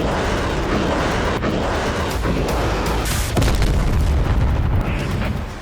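Heavy explosions from Russian strikes on military, industrial and energy sites in Ukraine boom one after another amid a dense roar of rumbling noise, loud and chaotic, with sharp blasts punctuating the din.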